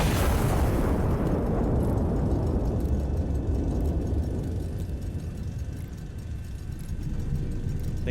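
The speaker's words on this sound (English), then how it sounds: "Go ahead and fire second shell." An artillery shell fired and exploding in the video game Iron Nest: a loud booming blast at the start, then a long rumbling roar that slowly fades, with faint distant crackles trailing behind.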